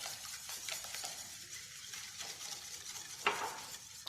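Eggs and sugar are whisked together in a bowl for a cake, making a quick, steady swishing and stirring with a bright clink of utensil against the bowl near the end, close and moderately quiet.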